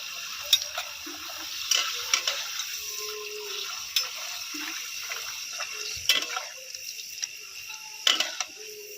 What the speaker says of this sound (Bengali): সাদা তেলে পাঁপড়গুলো ভাজলে দেখুন পুরো একদম সাদা সাদা হয়ে যাচ্ছে